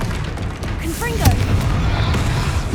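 Confringo blasting curse exploding in Hogwarts Legacy, a short bright crack with a zipping streak, then a low boom and rumble, surrounded by loud game battle noise.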